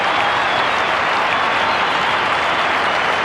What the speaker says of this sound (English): Let's listen to this applause.